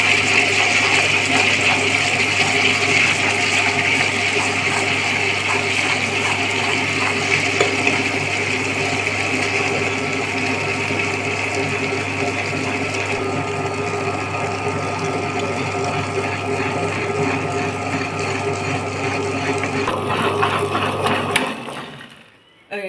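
A steady, loud motorized whirring and grinding hum from a wet grinder grinding black urad dal batter runs continuously, with a sloshing wet texture, before cutting off abruptly near the end.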